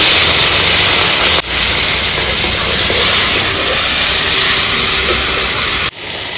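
Chopped tomatoes dropped into a hot pan with cumin, sugar and ginger, giving a loud, steady, close sizzle that hisses on with only brief dips.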